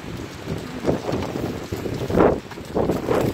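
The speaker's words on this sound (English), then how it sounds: "And it's so windy, oh my gosh!" Strong wind buffets the microphone in an open park, a steady broadband rush swelling into louder gusts near the middle and end, with no voices over it.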